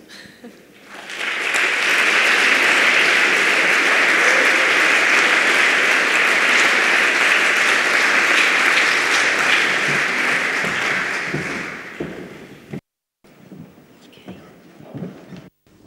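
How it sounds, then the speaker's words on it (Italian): An audience at a Nobel lecture in Padua breaks into applause, rising quickly into a loud, steady roar of clapping that holds for about ten seconds, then cuts off abruptly into quiet room sound. "Possiamo fare un applauso?"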